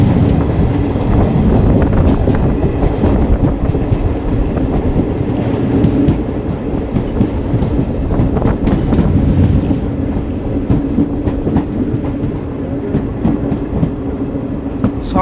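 Malda-Howrah Intercity Express rolling along rails near Azimganj beside the Ganges on a foggy morning, a continuous loud rumble with rhythmic wheel clatter heard from inside the coach.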